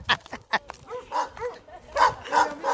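A dog barks in a series of about eight sharp, close barks, uneven in spacing, some yelping and some deeper, with no talk over them.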